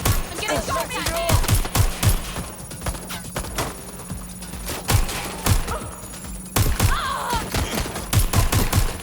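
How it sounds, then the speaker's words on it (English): Rapid bursts of gunfire in the video game Watch Dogs: Legion, sharp repeated shots clustering through the scene with brief pauses, loud and close, alongside faint voices. "I'm getting shot at here."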